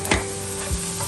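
Onions frying with turmeric and salt for fish curry make a close, steady sizzle, broken by two quick spatula strokes against the pan, with no voices.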